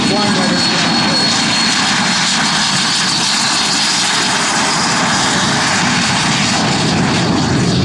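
L-39 Albatros turbofan jet trainer flying at an air show, a loud continuous roaring jet noise that fills the whole clip, with an announcer talking over it.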